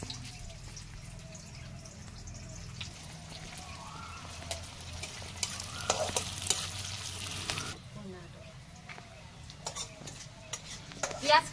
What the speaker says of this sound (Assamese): ইয়াতে পিঁয়াজ আৰু জলকীয়া এইখিনি দি লৈছোঁ।